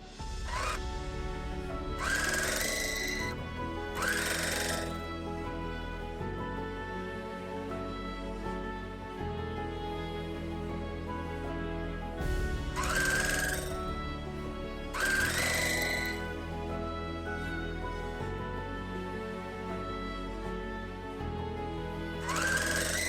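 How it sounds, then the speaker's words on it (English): A sewing machine runs in short stitching bursts, joining quilt blocks into fours for a Checkie quilt top, with steady tonal background music throughout. "So let's work our way through the rest of this row, sewing them now into fours."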